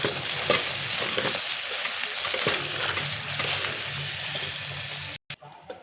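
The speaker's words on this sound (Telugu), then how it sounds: "కలిపితే నూనెలో కాయ అంతా మగ్గేదాకా చూడాలి. ఇట్లా అప్పుడప్పుడు కలుపుకుంటూ ఉండాలి." Vegetable pieces frying in oil while being stirred, a loud, close sizzle broken by repeated scrapes and knocks of the spoon against the pan, before the sound cuts out abruptly near the end.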